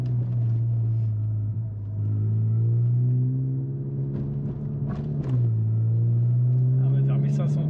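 Low, steady rumble from the Stage 2 tuned VW Golf GTI Clubsport with DSG gearbox held around 1500 rpm, a droning engine tone with a slight pitch dip midway, heard from inside the car as people talk over it.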